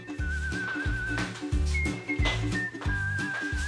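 A pressure cooker cooking vegetables vents steam with a thin, high whistle that wavers and repeats several times over a pulsing, rhythmic rumble, close and fairly loud.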